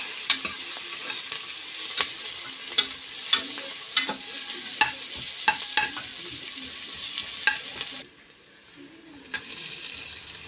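Onions sauté in a pan for mushroom biryani, with a steady, bright sizzle and repeated crisp spoon scrapes at irregular intervals, the frying noise dropping noticeably about two-thirds through before picking up again faintly.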